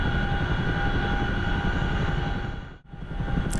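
A CH-47F Chinook helicopter taking off in DCS, a loud, steady rotor and engine drone that dips briefly near the end before returning at full strength.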